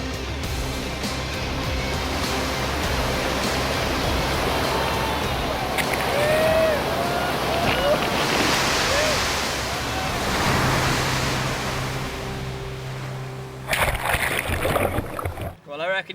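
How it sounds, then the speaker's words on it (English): Wild white-water waves crash and churn around a kayak in a rough tidal race, a loud continuous surging roar with wind buffeting near the end. "Now it's time to try to surf these waves."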